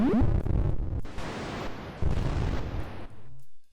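Blasts and missile-launch bursts from the Atari arcade game Missile Command, a run of loud, rough electronic explosions in close succession, each decaying into noisy rumble, ending with a short tonal hum.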